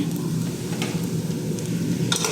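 Onions frying in a pan while rice with fish is cooked, a steady close sizzle with light stirring scrapes and a couple of faint clinks.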